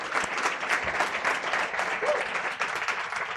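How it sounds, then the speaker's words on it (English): Attendees at Start-Up Night Africa in The Hague applaud themselves, a dense burst of clapping from a crowd indoors, steady and fairly loud throughout. "Please give yourselves a round of applause."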